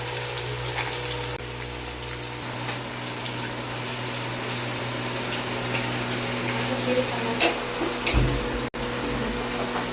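A steady, close hiss of fish frying in hot oil in a kadai runs throughout, with a couple of brief clatters near the end.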